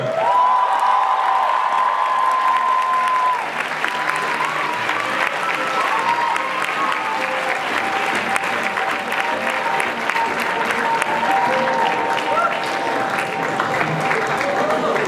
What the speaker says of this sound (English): A very big round of applause to both of them.